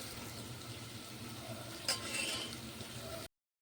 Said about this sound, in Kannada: ನೋಡ್ರಿ ಉಳ್ಳಾಗಡ್ಡಿ ಎಷ್ಟೊಂದು ಫ್ರೈ ಆಗಿದೆ ಮೆಣಸಿಕೆ ಉಳ್ಳಾಗಡ್ಡಿ ಬೆಳ್ಳುಳ್ಳಿ